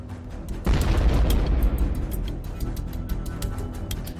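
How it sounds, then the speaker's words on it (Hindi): A small grenade dropped from a drone explodes on a tank in the Ukraine–Russia war: a sudden dull boom, followed by a sustained rumbling roar and crackling as fire starts inside, lingering for several seconds. "छोटा ग्रेनेड छोटा धमाका करता है।"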